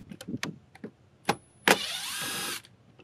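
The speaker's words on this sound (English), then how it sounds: "To access the upper two screws, adjust the power adjust motor up to the upper right-hand corner." A GM OEM tow mirror's power adjust motor on a 2019+ Silverado or Sierra drives the mirror glass with a steady electric whir of about one second, close and alone, after a few soft clicks and handling taps.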